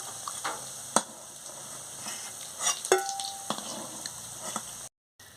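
Pieces of food frying golden red in hot oil, a soft steady sizzle with occasional sharp clicks and metal utensil taps as pieces are lifted out one by one, ending abruptly.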